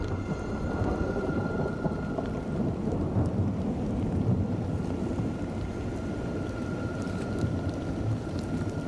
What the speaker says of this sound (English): The rain falling now on the burn zones begins carrying ash and plant debris.